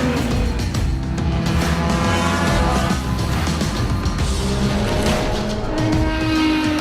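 Sports race cars compete at the SCCA Runoffs at Road America, giving a loud, continuous engine roar with several overlapping engine notes that swell and fade as cars pass.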